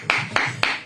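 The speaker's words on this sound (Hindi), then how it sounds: "ओ जोर से ताली बजाकर" Sharp, evenly spaced claps ring out about four times in under a second, loud and close, as a church congregation claps at a sermon.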